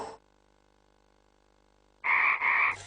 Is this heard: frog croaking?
yes